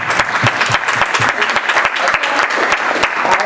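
Audience applause at a public meeting at the University of Maryland Eastern Shore, a loud, dense burst of many hands clapping close by for several seconds.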